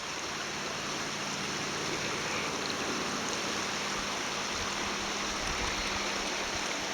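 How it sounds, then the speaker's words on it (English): Weiser River current flowing in winter at Shoepeg Bridge, a steady broadband rushing wash of water that holds constant throughout, moderately loud and close with no voices. "At this level of water, the main flow of the current, at least the surface current, seems to be directed a little way"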